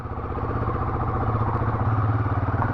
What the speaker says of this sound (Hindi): अब चलते हैं इसको लेके, ऐसे देखो एक्सीलरेशन बिल्कुल सही आ रहा है